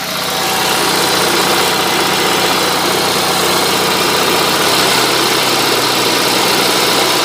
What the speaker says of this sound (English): Now listen to the engine.